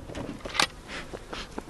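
Honeybees buzz at an opened beehive during an apiary colony inspection, a low steady hum with a few sharp clicks and knocks of handling close by.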